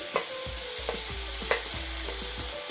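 Ginger garlic paste and turmeric fry in a pan for chilli chicken, with a steady close sizzle under regular stirring scrapes of the spoon, about two per second.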